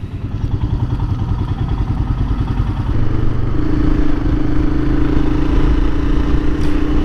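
A Royal Enfield Himalayan motorcycle engine drones loudly and steadily while riding on a highway, its pitch rising slightly partway through as the bike speeds up, with rushing wind noise.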